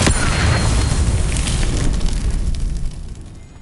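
A Confringo blasting spell explodes in the Hogwarts Legacy video game: a loud, deep boom with a rumbling, fiery roar that holds for about three seconds before fading slightly.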